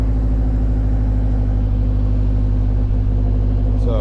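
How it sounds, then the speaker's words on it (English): A Subaru STI engine idling close by, with a loud, steady low rumble and even mechanical pulsing throughout and a brief higher rise near the end. "motor sounds healthy, thank God"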